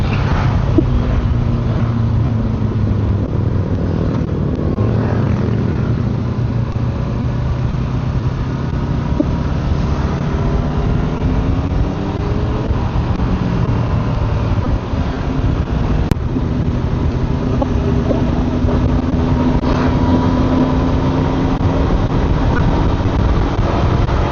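A Honda NX500 motorcycle engine heard while riding, its drone rising and falling through gear changes beneath heavy wind rush on the microphone, continuous and fairly loud.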